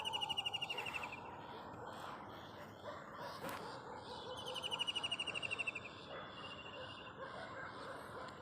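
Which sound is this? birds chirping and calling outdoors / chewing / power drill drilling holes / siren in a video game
birds chirping and calling outdoors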